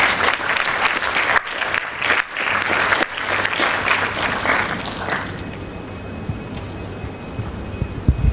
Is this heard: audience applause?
yes